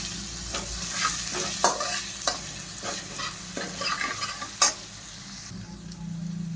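Green chilies and garlic sautéed with cumin in a hot pan, a bright close sizzle broken by repeated spatula scrapes and stirs, no voices.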